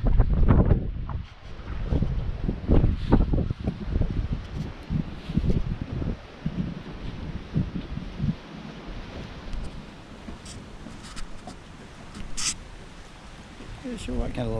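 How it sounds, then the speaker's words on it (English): Gusty wind on Dauphin Island buffets the microphone in uneven rumbling bursts while fishing, strongest at first and easing later, while people talk intermittently underneath. "It's so windy"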